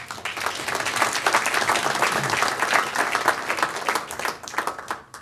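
Audience applause at a startup co-founders pitch event, a dense, steady wash of many hands clapping that holds for several seconds before thinning out and tapering near the end.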